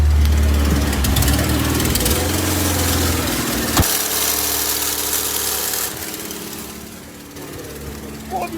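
Engine of a Porsche 924 running by itself with no accelerator input, a steady mid-pitched idle with rough vibration, close and loud, shifting slightly in tone partway through, with people talking over it.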